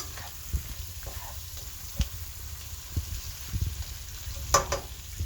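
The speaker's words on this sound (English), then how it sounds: "Still sauteing it." A mixture sautéing in a pot, a faint low sizzle with occasional knocks and scrapes of stirring, one brighter clatter near the end, quiet and without talk.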